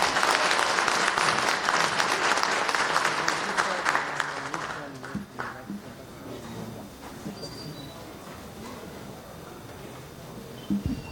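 Audience applause at the end of a lightning talk at a Go programming conference room, loud clapping for about five seconds that then fades into quieter room murmur and a few stray claps.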